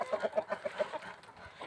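Hens cluck in a quick run of short, rhythmic clucks, close by and moderately loud, fading into quieter rustling at the end.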